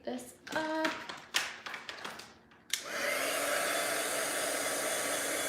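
A heat embossing tool blows hot air over a stamped card, switching on after a few taps and handling noises and then whirring steadily and close for the rest of the clip.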